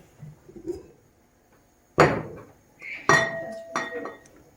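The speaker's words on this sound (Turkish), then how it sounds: "Şimdi tenceremi alıyorum." A metal cooking pot clanks and clinks a few times as it is picked up and set down, with faint movement noise in between.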